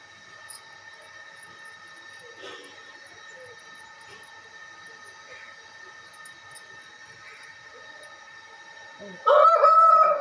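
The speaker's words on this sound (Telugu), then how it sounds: "ఈ కోడి చూడండి ఎలా అరుపుతుంది" A rooster crows loudly and close at the very end, after a quiet stretch of faint background hum and distant sounds.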